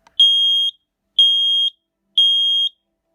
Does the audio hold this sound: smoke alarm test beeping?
yes